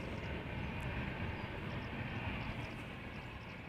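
A Bulgaria Air Airbus A320 at Amsterdam Schiphol gives off a steady, broad jet roar at a distance, an even rumble holding throughout with no voices.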